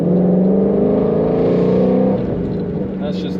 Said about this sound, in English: really show how this car, how it shifts and sounds when you're driving